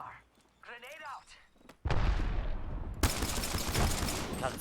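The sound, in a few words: gunfire in a video game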